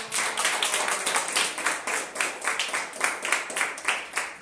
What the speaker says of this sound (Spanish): queremos darles un fuerte aplauso